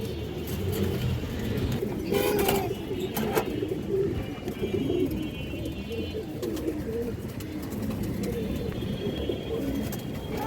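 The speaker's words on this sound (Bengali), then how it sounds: "এই যে দেখেন কবুতরটা" Old-breed pigeons at a sale coo steadily among other bird sounds, with a continuous low murmur and distant traffic around them.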